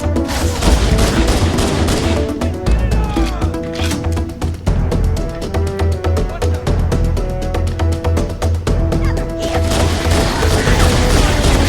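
Bullet-based gunfire in Halo CE Anniversary, loud rapid bursts of shots over a dense game soundtrack and effects, continuous throughout with short pauses between volleys.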